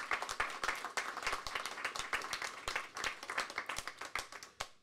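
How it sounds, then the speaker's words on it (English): Audience applause at a panel discussion on open source investigation, with dense steady clapping from many hands that stays loud throughout and then stops abruptly at the end. "So please give them a round of applause to appreciate"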